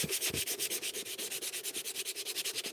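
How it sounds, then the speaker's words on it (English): A wooden bird box is sanded with a Velcro sanding disc, a close, quiet, rhythmic rasping of quick even strokes repeating steadily throughout. "can quite easily use the Velcro sanding discs. It works really well."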